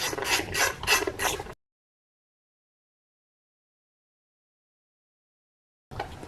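A ratchet wrench tightening a 10mm bolt on an ignition coil of a 2016-2021 Honda Civic 1.5L engine, giving a quick run of close clicking bursts for about a second and a half, then silence, with a brief resumption at the very end.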